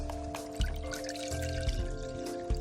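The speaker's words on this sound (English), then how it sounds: "In a saucepan," Water pours into a saucepan with a soft trickling stream and a few small splashes and clinks, steady and close, with a faint hum in the background.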